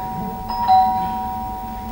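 A doorbell rings once with a clear two-tone electronic chime, moderately loud indoors against a quiet background.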